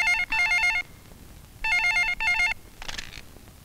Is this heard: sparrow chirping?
no